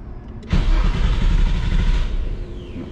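A Nissan R32 GTR fitted with a big single turbo in place of the factory twin turbos cranks briefly, then fires and runs with a loud, close, steady rumble that eases off at the end.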